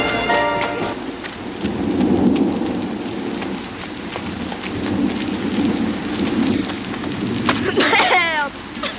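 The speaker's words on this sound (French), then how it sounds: "il pleut." Heavy rain pours steadily on a surface, with a low rumble of thunder swelling and fading beneath it and a few faint bird-like chirps at the edges.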